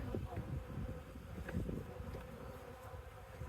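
Honey bees buzz faintly around an open beehive during a transfer from nucs into a Langstroth hive, a soft steady hum with brief handling knocks, no talking.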